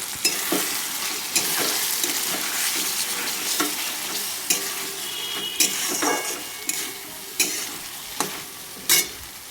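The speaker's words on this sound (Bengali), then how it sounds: "আর একটু নাড়াচাড়া দিয়ে কষিয়ে নিচ্ছি।" Spice masala with ground poppy seed paste frying in a pan, a steady close sizzle broken by repeated sharp scrapes and knocks of a spoon stirring against the pan.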